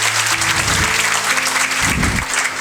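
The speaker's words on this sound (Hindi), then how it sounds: "तो जोरदार तालियां" Loud applause from an audience greeting a Group D railway job success at a gathering, dense continuous clapping for a couple of seconds with sustained tonal notes running beneath it.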